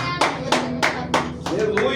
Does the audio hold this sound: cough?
no